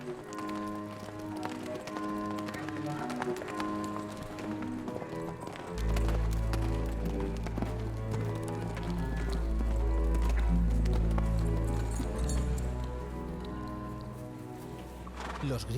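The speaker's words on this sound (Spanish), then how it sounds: "antes de que el caballo cruzara el puente al galope" A horse gallops across a bridge in a dramatized mystery and horror story, with rapid clip-clop hoofbeats and a neigh mixed under a dense, loud music score throughout.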